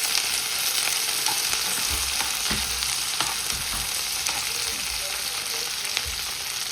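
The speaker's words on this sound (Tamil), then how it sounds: "பார்த்தீங்கன்னா இது நல்ல வடிவாக வதங்கி கொண்டு இருக்குது." Green chili, garlic and curry leaves sauté in a hot pan for a bitter gourd dish, giving a steady close sizzle with occasional scraping and stirring knocks and no voices.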